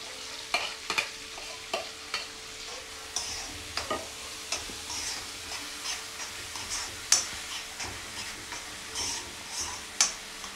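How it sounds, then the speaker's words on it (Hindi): Onions fry in a pan for pav bhaji under a steady, soft sizzle, while a spoon stirs and scrapes in regular light strokes, about two per second, all the way through. "हल्का ब्राउन होने तक हमने प्याज को भूनना है।"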